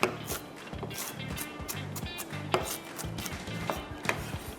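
Knife chopping onion on a board, a quick run of close, sharp, uneven knocks against faint background hiss, with no voices.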